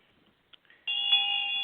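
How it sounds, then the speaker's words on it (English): A bell rung to the quarters during a ritual gives one bright, clear ring that sustains with a long steady tone, close and alone after a couple of faint taps. "Field rings the bell to the quarters, starting in the west and circling Deasil"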